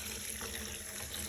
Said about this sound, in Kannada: ಇದಕ್ಕೆ ಎಷ್ಟು ನೀರು ಬೇಕೋ ಅಷ್ಟು ನೀರನ್ನು ಹಾಕ್ಕೊಳ್ಳೋಣ